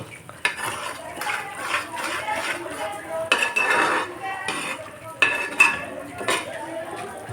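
Shrimp pickle masala stirred in a pan with a metal spoon, giving repeated scraping clinks and knocks against the cookware at an irregular, close-up rhythm, with no talking.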